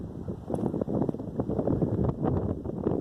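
Strong wind gusting outdoors on a cold, sunny day, rumbling steadily and loudly against the microphone throughout.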